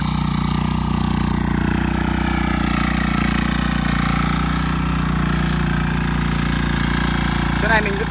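A 178 diesel tiller engine runs at a steady, loud, close-up chugging idle in a field, continuous throughout, with a faint voice briefly heard near the end.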